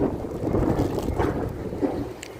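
Wind gusts along Grand Street in Manhattan's Chinatown on an October morning, a steady low rumbling buffet across the microphone with faint street noise beneath and no talking.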